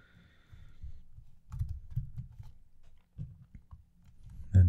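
Screwdriver carving out a hole in a carpeted part of an Eaglemoss Back to the Future DeLorean model, heard as close, soft scraping and crunching in short irregular bursts, ending with a louder knock.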